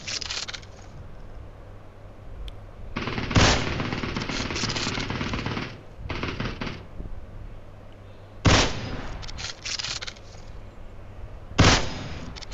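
Automatic M4 rifle fire in PUBG on the Erangel map, with several long, loud sustained bursts separated by short pauses, set against continuous in-game background noise.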